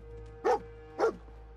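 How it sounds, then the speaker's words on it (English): A dog in the video game Fallout 4 gives two sharp, close barks about half a second apart over a low steady game-ambience hum, with no talking. "Dog found something."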